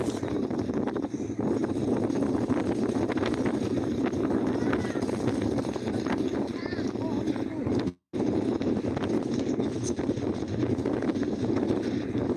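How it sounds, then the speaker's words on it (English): Strong wind buffets the microphone outdoors near Cork City at a crowded event, a constant loud rushing roar with brief dropouts and a faint crowd beneath. "Very windy."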